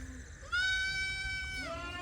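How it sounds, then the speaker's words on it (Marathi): A young Beetal goat kid, about two weeks to a month old, lets out one long, clear, wavering bleat close by after a brief quieter call, over a low background hum. "ही आहेत शेळ्यांचे बिटल बोकडाची पिल्लं वगैरे"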